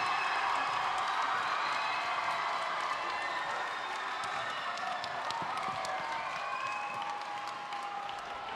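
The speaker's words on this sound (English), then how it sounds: "An exuberant Golden Corral Cedar Cliff crowd" A high school basketball crowd in a Cedar Cliff gym erupts in sustained cheering, whooping and applause right after a buzzer-beater win, loud and dense throughout.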